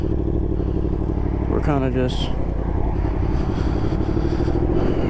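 A 2023 Yamaha MT-10 motorcycle cruising on roads in Louisiana gives a steady, close engine drone with road noise, and a rider's voice talks briefly over it.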